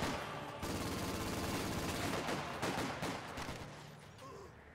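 Gunfire crackles through a Company of Heroes 2 battle, rapid overlapping bursts of small-arms and machine-gun fire holding fairly steady, then thinning out toward the end.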